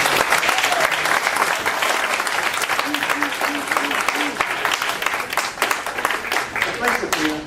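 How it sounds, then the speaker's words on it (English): A room full of people applauds a cheer team that just won state, a loud, continuous patter of many hands lasting over seven seconds, with a few brief tonal sounds mixed into the clapping. "let's just give them a round of applause"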